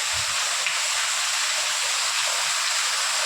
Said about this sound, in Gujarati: કેટલો વરસાદ પડ્યો